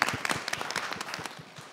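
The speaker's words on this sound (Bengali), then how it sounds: "সবাই সবার জন্য একটা জোরে হাততালি দেই" An audience at a beauty reality-show competition gives the performers a burst of lively applause, many hands clapping close by and fading slightly toward the end.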